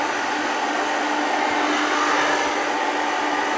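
A hair dryer fitted with a diffuser blows loud and close in a constant, unbroken roar while drying the top of the hair after a middle part flow haircut.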